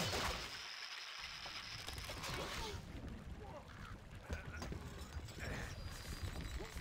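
Horse hooves clip-clop steadily in a video game, amid a dense, noisy soundscape with rushing ambience and scattered effects; no clear speech.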